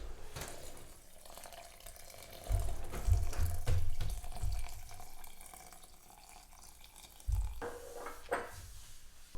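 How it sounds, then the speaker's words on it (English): Water poured in a circular motion over coffee grounds in a French press for cold brew, a soft steady trickle with a few louder gushing bursts, close by and with no voices. "Get your water and pour it in a circular motion over the grounds"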